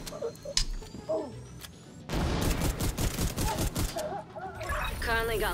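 Gunfire in The Division 2, Warlords of New York, fighting near Vivian Conley: a quiet stretch of scattered shots, then from about two seconds a dense, loud burst of rapid automatic fire running to the end, mixed with game effects.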